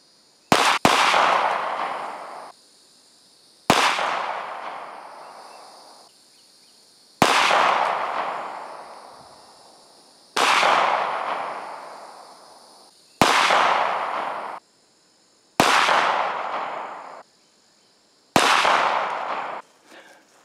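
.45 ACP pistol shots at knockover targets outdoors: seven loud, sharp single reports spaced a few seconds apart, each with a long echoing decay, one with a quick double hit at the start.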